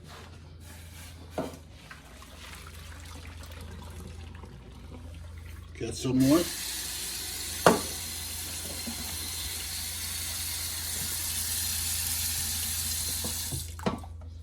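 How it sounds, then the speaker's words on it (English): Water is poured off from a pot, splashing steadily into a sink for several seconds, with a brief voice and a few clanks of the pot nearby. "Pour off this water."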